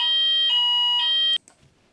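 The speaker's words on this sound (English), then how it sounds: "That is a fire alarm." A fire alarm sounds loud and close as a shrill electronic tone pulsing in three even bursts about half a second apart, then cuts off abruptly, leaving near silence.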